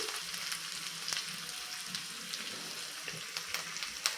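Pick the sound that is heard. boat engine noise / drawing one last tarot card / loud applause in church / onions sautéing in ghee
onions sautéing in ghee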